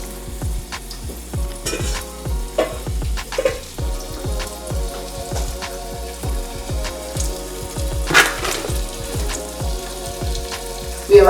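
Chicken pieces frying in a hot pan at home, a steady dense sizzle with bursts of spattering and a few clinks of utensils, close and loud with no talking.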